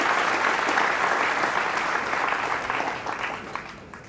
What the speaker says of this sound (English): The applause there was much louder because now they realized that the 3 is now free.